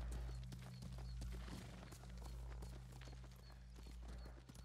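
Horse hooves clopping steadily at a trot in the video game Ghost of Tsushima, a close rhythmic clip-clop over a constant low ambient hum, with no talk.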